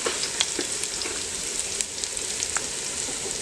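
Onions frying in a pan for homemade chicken dum biryani, a steady soft sizzle with occasional light scrapes and taps of stirring, fairly quiet and close with no talking.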